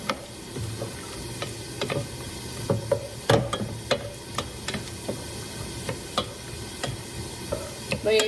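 Onions cook in a pan, sizzling softly beneath repeated sharp clicks and taps of a utensil stirring against the pan, a steady irregular rhythm at close range.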